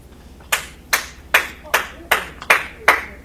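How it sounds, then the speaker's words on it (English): Seven sharp, evenly spaced hand claps ring out close and loud at a wedding-day gathering, forming a steady rhythmic beat over low background murmur. "What's happening? Why are we clapping?"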